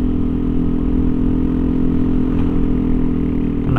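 A Yamaha NMAX 155 scooter fitted with a TZM racing exhaust runs close by with a loud, steady, throaty drone, holding an even idle-to-rev rumble without pause.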